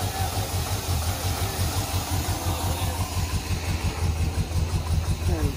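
The engine of a 1968 Chevrolet Suburban idles nearby with a steady, loping low rumble and even pulsing beats throughout, heard alone.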